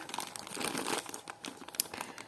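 A small plastic package bag crinkles and rustles continuously up close during the unpacking of a parcel of vintage jewelry, with a few sharper crackles.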